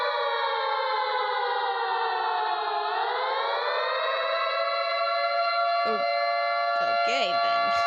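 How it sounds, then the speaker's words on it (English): Nuclear civil defense siren wailing steadily, loud and sustained, its pitch dipping and then rising again into a long held tone. Brief faint noises cut in near the end. "the nuclear siren is by far one of the most unsettling sounds to hear"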